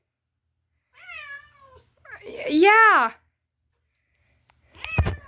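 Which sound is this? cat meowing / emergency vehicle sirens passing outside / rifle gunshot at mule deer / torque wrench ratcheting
cat meowing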